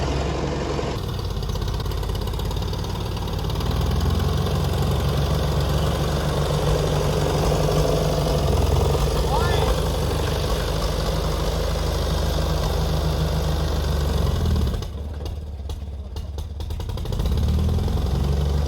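An old Ferguson tractor engine idles steadily close by, a continuous low rumbling putter that holds even throughout, with a brief dip in level near the end before it settles back.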